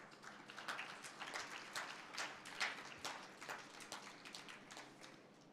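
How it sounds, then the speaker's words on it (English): An audience applauds a maize flour milling company at a national food fortification summit award ceremony. The clapping is steady and sustained from a crowd heard at a distance, fairly faint, with no voices over it. "A round of applause to Capwell."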